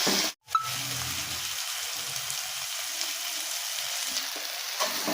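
Shredded cabbage sautés in a pan for a cabbage ghonto, giving a steady sizzling hiss with soft scraping stirs. A brief gap near the start breaks the frying, which then carries on evenly and close.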